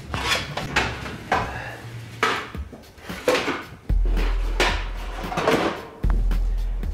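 Metal pan clattering and sliding onto an oven rack under the broiler, several close knocks and scrapes spread over a few seconds, with a low steady hum underneath.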